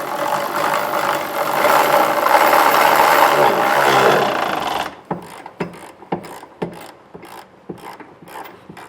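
A hand ratchet tightens trailer hitch bolts under a 2023 Kia Sorento near the exhaust, giving rapid clicking bursts close by after a stretch of louder background noise.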